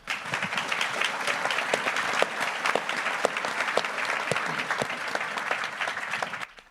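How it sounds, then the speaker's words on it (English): A modest audience claps for guests after a pro-athlete interview, individual hand claps standing out in an uneven, lively patter that continues for several seconds and then stops abruptly. "You guys, can you give them a round of applause?"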